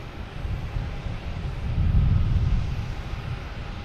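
An airliner arriving at Boston Logan Airport from London Heathrow gives a low, steady jet rumble that swells toward the middle and then eases, with some wind noise and no talking.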